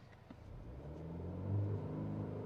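Cadillac CT4-V, a 2022 sport sedan, launching from a standstill under launch control, its engine rumbling low and swelling into a strong revving pull that peaks then holds steady, heard from inside the cabin.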